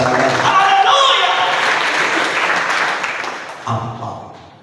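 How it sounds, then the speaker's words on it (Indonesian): A church congregation applauding together, a dense wash of clapping that swells then fades out, with voices mixed in and a crowd murmur at the end. "Kita berikan tepuk tangan"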